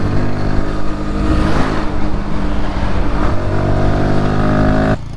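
A new Bajaj Pulsar NS 160 motorcycle revs close by, its loud engine roar holding steady for about five seconds before dropping off abruptly at the end.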